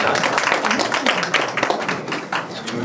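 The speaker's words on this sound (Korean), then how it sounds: "앞에 패널분들 한 번 더 박수 한번 부탁드리고요" An audience at a research presentation on disability activity-support services gives the panelists a round of quick, close hand claps, with voices talking over the clapping.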